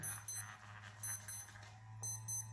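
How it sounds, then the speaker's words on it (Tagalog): An alarm clock rings at home in the morning, a faint repeating pattern of short electronic beeps in bursts over a low steady hum. "Alarm."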